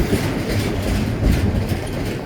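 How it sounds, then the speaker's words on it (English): A freight train with a pusher engine rumbles past at close range near Steins, New Mexico, a loud continuous roar of wheels and rail noise throughout. "There's a second train here."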